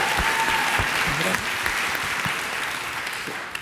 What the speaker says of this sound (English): I think another round of applause